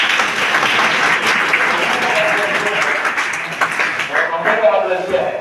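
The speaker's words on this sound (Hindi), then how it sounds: "ताली बजाइए इस पर" A crowd applauds loudly and without a break for several seconds at a motivational talk, a dense wash of many hands with murmuring voices under it that thins slightly near the end.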